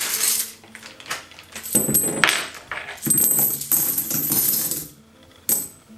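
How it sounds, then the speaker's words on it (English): Weighty metal coin tokens from the board game The Valley of the Alchemists dropping and clinking together in bursts, with bright metallic jingles and rattles, close and loud, with short pauses between handfuls. "metal tokens. They sound amazing."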